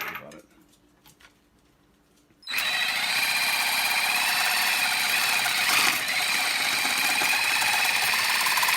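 A power tool starts abruptly after a few quiet seconds and runs loud and steady through the rest, cutting a threaded rod in a workshop, with no break in the harsh whine.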